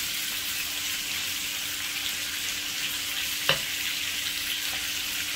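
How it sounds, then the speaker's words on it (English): Breaded vegan cutlets and vegetable scallops frying in a pan give a steady, even sizzle throughout, with one sharp utensil clink partway through and no talking. "I always put it in some flour and then I like fry it"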